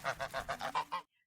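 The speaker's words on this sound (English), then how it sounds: "Hissing and honking, the mother goose ran after him." A mother goose honks in a quick run of about six loud, nasal calls at an even rhythm, then falls silent; it is likely a produced sound effect in a children's story, heard alone.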